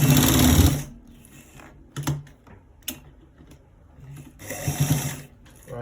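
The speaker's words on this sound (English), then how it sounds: "We are stitching it straight to the end part." A sewing machine stitches a short sleeve seam straight to the end, running loud for almost a second, then in short bursts and a longer run near the end.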